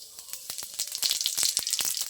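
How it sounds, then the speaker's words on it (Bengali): Five-spice seeds crackle and spit in hot mustard oil in a wok, with a quick run of sharp, close pops that grow denser and louder midway over a bright sizzling hiss. "তেলে এবার দিয়ে দেবো 5 ফোড়ন"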